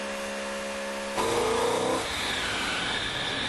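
A racing engine running inside a thick-walled dynamometer test chamber: a steady tonal hum, then a sudden louder surge of engine roar rising in pitch for under a second before settling into a broad, sustained drone.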